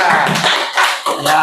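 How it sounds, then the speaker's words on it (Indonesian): A group of students claps together in a classroom, a quick burst of close, sharp hand claps with a few uneven swells. "Oke, tepuk tangan buat mereka."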